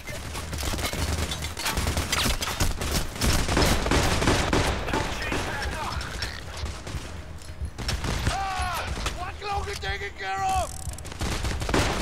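Dense gunfire from enemies in Payday The Heist, rapid overlapping shots and bursts of automatic fire close by, with a voice shouting partway through.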